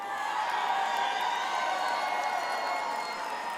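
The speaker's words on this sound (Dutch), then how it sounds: "Mag ik nog één keer een heel groot applaus voor deze dames van Wij Kijken Wel." A crowd at a Dutch carnival (TVK) finale show applauds and cheers for a trio of women performers, a steady dense wash of clapping and voices filling the whole stretch without a break.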